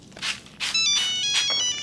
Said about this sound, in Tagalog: Saan baga may natawag? Dito sa aking iPhone 15.